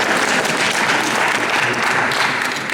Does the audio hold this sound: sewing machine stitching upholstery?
no